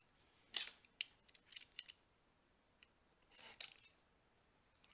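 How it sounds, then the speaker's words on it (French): Utility knife slicing through cardboard while making a homemade NES game box, a few short sharp cutting strokes in two bursts, close and fairly quiet. "Pour la couper, ben, on a un super cutter."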